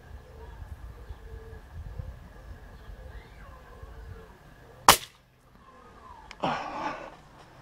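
A single sharp air rifle shot firing H&N pellets stands out mid-clip, a loud crack that dies away quickly, followed by a softer clatter; the rest is quiet room ambience with faint background sounds.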